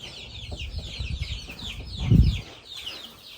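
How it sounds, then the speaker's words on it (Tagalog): Farm chickens cluck and chatter softly in the background, with a brief low thump or rustle near the end and no clear voices. "O niya itong mga manok."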